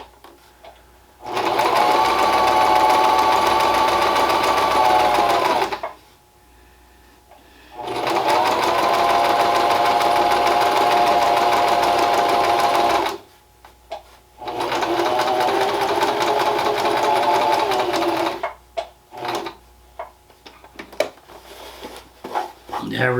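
A sewing machine stitches along ribbon in three long steady runs of several seconds each, with short pauses between them and a person speaking faintly during the breaks.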